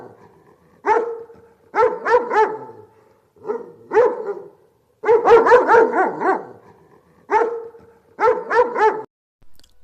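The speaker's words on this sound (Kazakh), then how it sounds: "ит" A dog barks loudly and close by in several short bursts of two to four barks each, separated by brief pauses.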